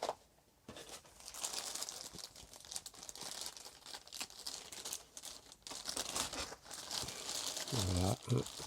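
Crinkling of a protective plastic bag being unwrapped from around the padded pouch of a Pentax DA HD 55-300 ED WR zoom lens, close, irregular rustles and crackles throughout, with brief faint voice near the end.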